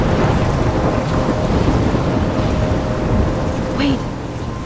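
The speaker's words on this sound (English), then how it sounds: "I'm trapped in a storm?" Thunderstorm from the video game Life is Strange, a steady loud roar of heavy rain and rumbling thunder filling the whole stretch, with a brief higher whistling swirl of wind near the end as the din eases slightly.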